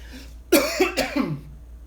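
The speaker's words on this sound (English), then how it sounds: "That cough is not COVID. It's a wet cough." A single wet, phlegmy cough, close and loud, breaks into a few rough bursts over about a second, heard on a fishing boat on Sturgeon Bay.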